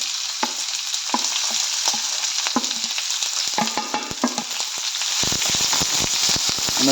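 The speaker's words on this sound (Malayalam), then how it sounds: "ഈ എണ്ണയിൽ കിടന്ന് വെളിച്ചെണ്ണയിൽ കിടന്ന് ശരിക്കും നല്ലോണം വഴറ്റിയെടുക്കണം" Sliced onions sauté in coconut oil for a Kerala-style pepper chicken curry, a loud continuous crackling sizzle with frequent stirring clicks that grow busier toward the end.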